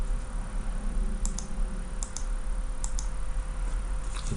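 Computer mouse clicks, a few sharp close pairs of clicks over a steady background hum, with no talk.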